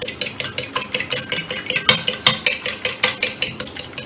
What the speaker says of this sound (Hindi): 1 अंडा ले लिया है मैंने, उसको हल्का सा बीट करना है।